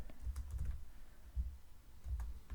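Someone types HTML code on a computer keyboard, producing soft, close clusters of key clacks in quick bursts with brief pauses.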